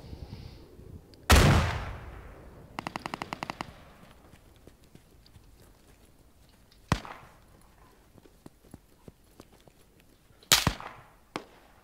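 Gunfire in the video game Squad: a loud near shot, a rapid burst of automatic fire, then scattered sharp cracks and distant shots over a quiet ambience.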